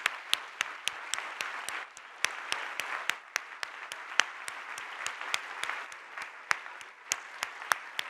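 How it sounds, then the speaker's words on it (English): Forum audience standing and applauding themselves at a morning session, a steady roar of many hands clapping with sharp, individual claps popping out near the microphone throughout. "stand up and give yourself a round of applause"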